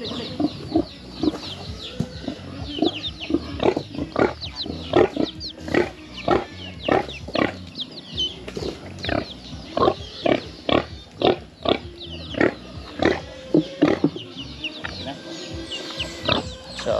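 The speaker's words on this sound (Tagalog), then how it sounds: "ayan naman yung isa pang baboy natin" Pigs on a farm grunting and squealing in a dense, fast series of sharp calls, loud and near, with chicken-like clucks mixed in and quieter gaps toward the end.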